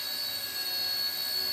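A home-built Black Hornet-style micro UAV drone in flight gives a steady, high-pitched electric whine with a bright tonal buzz, close and continuous with no talk.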